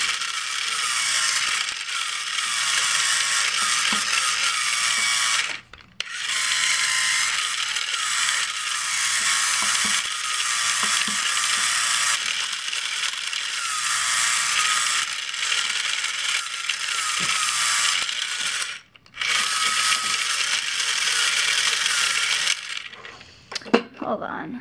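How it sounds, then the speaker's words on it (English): A mixer labours through thick Jif peanut butter, its motor whine loud and steady for long stretches, broken by two brief pauses and a final stop. "It's really thick, so my mixer's having a hard time."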